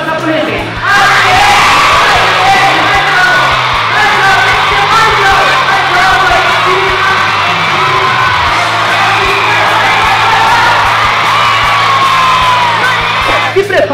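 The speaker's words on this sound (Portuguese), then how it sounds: "Com o braço esticado, nós iremos gritar ATE!" A theatre audience of many voices shouts and whoops together in a loud, sustained crowd roar that fills the room, with strong echo.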